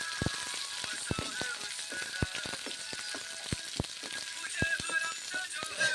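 Pumpkin with green chilli and ginger frying in a pan, a steady soft sizzle broken by sharp clicks of a spoon stirring and scraping at irregular intervals, close and moderately quiet.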